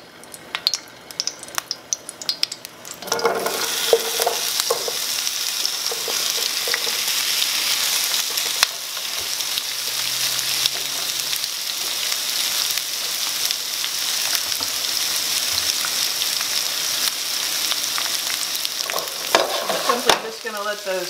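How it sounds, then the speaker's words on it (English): Onions for a vegan caramelized onion dip fry in a pan with a loud, steady sizzle that lasts throughout, with a few stirring clatters near the start and again near the end. "Hear a little sizzle like that."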